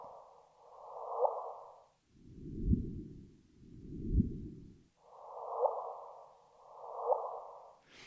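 Gravitational-wave signal from two black holes colliding, rendered as sound: alternating tonal whooshing swells, higher pulses then lower ones then higher again, each rising and fading in a steady rhythm, with no talk.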